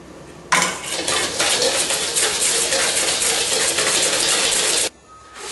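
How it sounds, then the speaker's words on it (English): A whisk beats a butter sauce in a metal pan, giving loud, continuous rapid scraping and clinking that starts abruptly, runs steadily for about four seconds, then stops. "After a few minutes of whisking"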